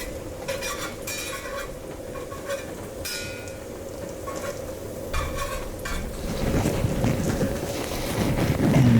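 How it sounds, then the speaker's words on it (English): Pancakes fry in a pan while a spatula shapes them, with repeated short scraping strokes over a steady sizzle that grows louder toward the end. The sound is close and has no talking. "I'm just going to use this spatula to help shape your pancakes"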